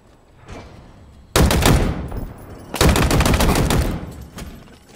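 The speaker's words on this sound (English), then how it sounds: "Machine guns suit you, Spartan." Automatic gunfire in the shooter Halo Infinite rattles out in two sustained, loud bursts of rapid shots, separated by a short pause, after a faint quieter stretch at the start.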